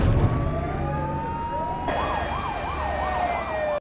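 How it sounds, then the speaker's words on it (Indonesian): Fire engine and ambulance sirens wail over rumbling traffic, one long rising tone joined midway by a fast, warbling siren, both fairly close. "Ketika di perjalanan, Om Wowo dikejutkan dengan beberapa mobil pemadam kebakaran, ambulan yang pergi ke suatu tempat."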